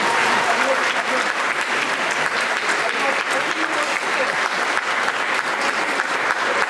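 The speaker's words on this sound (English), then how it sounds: "Please give them a round of applause." Audience at a high school musical performance of Matilda applauds, a dense, steady wash of many hands clapping at moderate loudness throughout with no talk on top.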